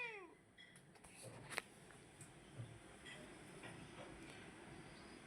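A cat gives a short falling meow at the start, then faint rustles and small thumps continue quietly, with no talk.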